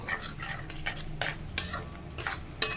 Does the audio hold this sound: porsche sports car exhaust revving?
no